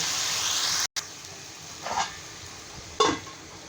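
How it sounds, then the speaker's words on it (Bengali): Rohu fish head frying in a pan with a bright, steady sizzle that cuts out abruptly, then quieter hissing broken by two brief bursts, likely a lid or utensil being set down. "মাছটা কষানোর জন্য আমরা একটা ঢাকনা দিয়ে রেখে দেব"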